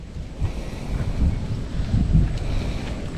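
Steady wind buffeting the microphone at an outdoor fishing spot, a low, rumbling roar that swells and eases continuously, with no voices.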